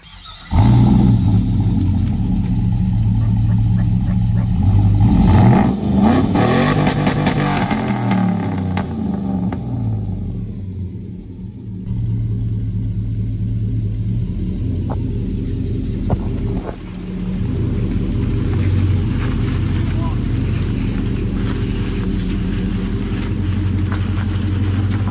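A car with its drive shaft fallen out, running in four-wheel drive, rumbles along with a loud steady engine drone and rising revs, a brief quieter dip midway, close and continuous with no talking.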